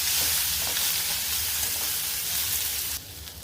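Boiled chana dal being stirred in a pan with urad dal, asafoetida, dried red chillies and curry leaves for kadalai paruppu sundal, a loud, continuous sizzle under the stirring that drops away abruptly near the end.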